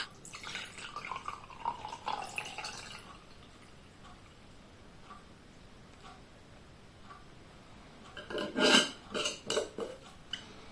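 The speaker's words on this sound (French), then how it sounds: "je vais filtrer mon eau d'ortie" Homemade nettle water poured through a small kitchen strainer, faint drips and light clinks at first, then a short burst of louder clattering metal and splashing near the end.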